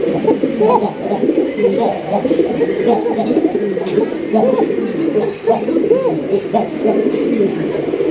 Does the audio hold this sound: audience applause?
no